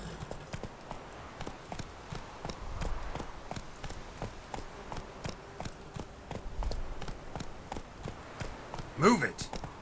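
A horse gallops in The Witcher 3, hooves pounding in a quick, steady rhythm of close, crisp clip-clops that runs throughout, with a brief whinny-like sound near the end and people talking over it.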